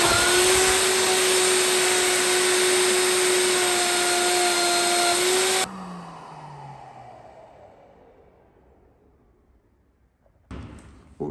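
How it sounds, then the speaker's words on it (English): A router fitted with a 30mm guide bush and 18mm cutter runs at a loud, steady high-pitched whine while cutting through a board, then switches off and winds down, followed by a brief clunk near the end. "Take your router with a 30mm guide bush and the 18mm cutter fitted, and we want to route through this board in multiple passes"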